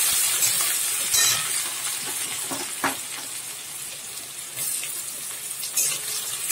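Chopped onion frying in hot oil in a wok, with a steady close sizzle that carries on throughout and short bursts of crackle and stirring.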